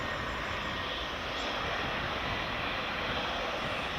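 An aircraft engine roars loud and continuous at Edinburgh Airport in the early morning, a broad steady rush that holds for the whole stretch.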